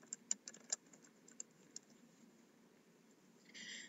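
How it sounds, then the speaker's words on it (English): Quick, light keystrokes on a computer keyboard, a short burst of irregular clicks that thins out into a few isolated taps, close and quiet. "I'm going to type agenda for soccer coach meeting."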